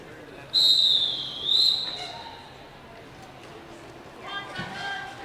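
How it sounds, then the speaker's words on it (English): A roller derby referee's whistle shrills twice in quick succession during a bout, loud and piercing, followed by faint arena noise and a softer distant whistle toward the end. "That's my second favorite whistle in all of roller derby."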